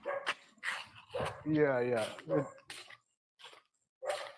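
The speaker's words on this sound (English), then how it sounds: "I can hear a dog barking in your background" A dog barks repeatedly in the background of a remote call, sharp barks and yips in short bursts with gaps between them, mixed with a voice.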